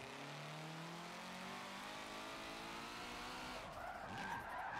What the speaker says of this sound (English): Look, I'm even drifting around the outside.